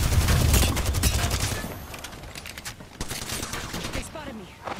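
Rapid gunfire aimed at the player in Apex Legends, loud bursts of shots clattering in quick succession, strongest at first, then sharp sporadic cracks that trail off and return.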